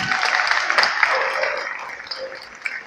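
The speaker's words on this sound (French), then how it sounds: "Je crois qu'on peut l'applaudir quand même." An audience at an outdoor dog training demonstration with an Australian Shepherd claps in a steady wash of applause that is loudest at the start and fades gradually over about three seconds.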